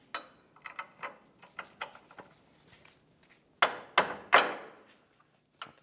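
A hammer taps a rear mounting bolt into a front lower control arm bushing on a car, sharp metallic knocks at first light and scattered, then several harder, louder blows near the end.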